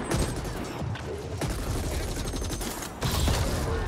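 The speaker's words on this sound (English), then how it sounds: "Do a little cover shooting here." Sustained gunfire during cover shooting in The Ascent, a cyberpunk shooter video game, rattling steadily across the whole stretch with a few sharper shot bursts cutting through the continuous din.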